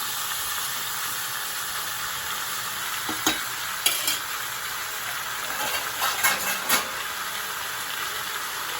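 Malabar spinach frying with hilsa fish head in a pan, a steady sizzle broken by a few scraping stirs of the spoon in the middle, with no voices.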